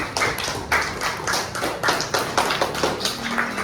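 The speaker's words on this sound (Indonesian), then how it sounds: "dari B, kelompok B, kita beri tepuk tangan." Students in a classroom clap together for group B during a teaching performance assessment, giving a burst of rhythmic, fairly loud group clapping with evenly spaced sharp claps and no talking.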